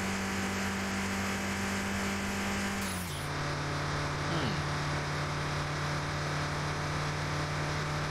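Nissan Silvia S15 driving in the game Car Mechanic Simulator 2021, a steady loud engine drone that drops in pitch around three seconds in, like a gear change, then holds, with no talking.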